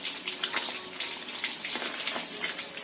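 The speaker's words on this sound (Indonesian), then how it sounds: "Kemudian kita goreng yang selanjutnya." Fish frying in hot oil, a steady close crackling sizzle with dense popping spatters throughout, no talking.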